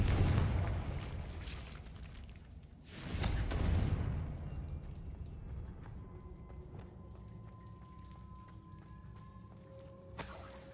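Confringo explosion spell in Hogwarts Legacy, a loud blast at the start and a second boom around three seconds in, each fading into a long rumbling tail, with a sharp burst near the end.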